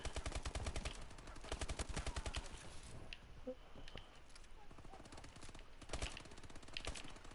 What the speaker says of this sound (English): If y'all don't stop shooting